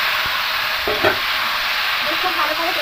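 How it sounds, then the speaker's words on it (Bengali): Yogurt-marinated chicken hits hot oil in a pan with a steady, loud sizzle, with a few stirring scrapes over the frying hiss. "এখানে চিকেনটা রেখেছিলাম দই মাখিয়ে, এবার এই চিকেনটা এখানে দিয়ে দেবো।"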